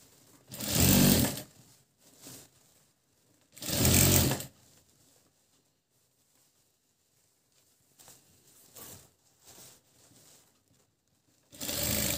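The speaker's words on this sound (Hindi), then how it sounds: "रखने के बाद इस पे इधर से सिलाई लगाना शुरू करेंगे।" Sewing machine stitching layers of a can-can lehenga, running in short loud bursts separated by quiet pauses, with a few softer bursts before a final run.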